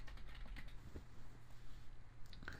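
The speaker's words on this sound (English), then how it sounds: "I'm just going to type in your company logo." Keys clatter on a computer keyboard in quick irregular bursts, close and fairly quiet, with no talk over them.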